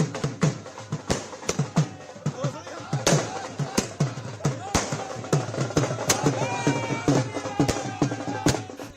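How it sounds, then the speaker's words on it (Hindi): Fireworks bursting at street celebrations by BJP supporters, a rapid series of sharp cracks and bangs going off repeatedly, some loud and close, over a steady background of crowd noise and chatter. "कहीं आतिशबाजी का दौर चल पड़ा है"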